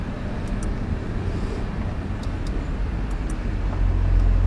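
A 2018 Audi RS4 exhaust with valves drones steadily at close range, with a low rumble that swells slightly toward the end and no talking.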